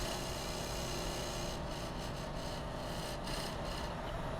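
A gouge cutting a dovetail into wet wood turning on a lathe, a continuous faint scraping rasp over a steady low motor hum, unbroken for a few seconds with no voices.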